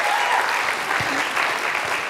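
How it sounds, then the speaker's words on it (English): A church congregation applauds the ministers at the close of a Unity service in Seattle, with dense, steady clapping at a loud, even level and a few faint voices mixed in. "Applause for these ministers."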